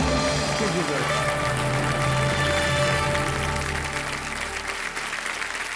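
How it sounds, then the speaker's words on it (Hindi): Studio audience applauding on the KBC TV quiz show after a contestant wins, a sustained wash of clapping over tonal studio music that tapers slightly toward the end. "और इतनी ताली बज रही है जनता के पास"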